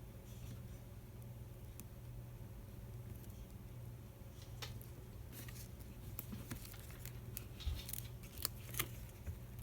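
Scissors snip paper at an angle to shape a journal tag made with napkins, faint scattered cuts over a quiet background that grow busier toward the end.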